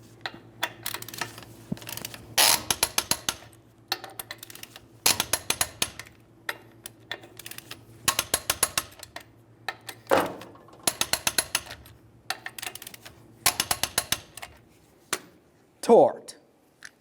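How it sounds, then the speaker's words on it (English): A torque wrench clicks repeatedly while lug nuts are tightened in a crisscross pattern on a 1998-2011 Ford Ranger wheel, rapid close ratcheting bursts separated by short pauses, with a voice speaking in between. "we'll torque these in a crisscross manner."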